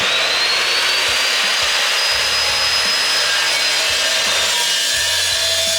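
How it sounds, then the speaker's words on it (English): A metal tube is cut to lengthen CV axles on a mini truck. The sawing is a steady, close, loud grinding rasp with a thin high whine, continuous throughout with no talking. "cutting some tube, and we're gonna extend the axles"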